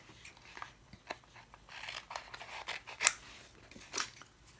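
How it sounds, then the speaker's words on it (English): Scissors snip around a handmade craft stamp in a series of short, irregular crisp cuts, fairly close and quiet, with no voices. "And then I'm going to cut it out again."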